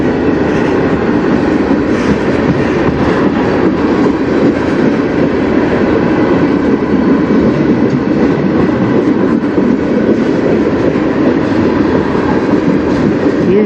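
A CN freight train rolls past on the Strathroy Sub near Sarnia, Ontario, a loud, unbroken rumble of wheels and cars that stays near throughout.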